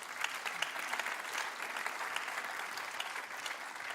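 Applause from a church congregation during a Sunday service, a steady dense clapping that fills the room for several seconds, fairly even in loudness with no talk over it.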